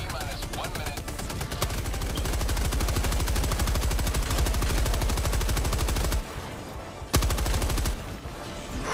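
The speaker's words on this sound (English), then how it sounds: "You got this machine gun turret." Sustained, loud rapid-fire bursts from a machine gun turret in the video game Helldivers 2, hammering steadily for about six seconds, then a brief pause and a few more sharp shots.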